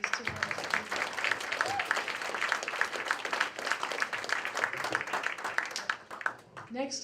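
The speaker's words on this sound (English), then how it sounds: "Let's have a round of applause for these 2 wonderful" Audience applause at a political candidate forum, a dense wash of many hands clapping steadily for several seconds before tapering off, with a voice starting to speak at the end.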